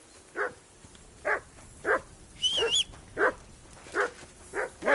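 A dog in the video game Kingdom Come Deliverance 2 barks about eight times in an even rhythm, each short bark loud and close. A brief high whine or whistle rises in the middle, and no one speaks.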